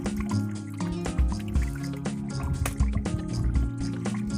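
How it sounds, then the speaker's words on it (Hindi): Water drains and drips from a removed washing machine part during a repair, giving irregular splashing and trickling close by with clattering handling sounds throughout. "ये पानी अभी पानी निकला।"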